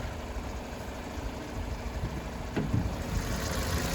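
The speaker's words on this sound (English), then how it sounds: "So that's how the car sounds." A Vauxhall Corsa car engine idles steadily at close range, a low continuous rumble with a brief bump in level partway through, with no voices.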